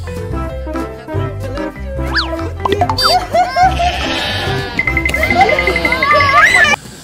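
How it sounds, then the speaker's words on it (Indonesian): A sheep bleats in wavering, drawn-out cries, loud and close over a busy, layered background of other sounds. "yang ini seekor domba"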